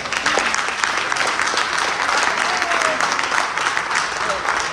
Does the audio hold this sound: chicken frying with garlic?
no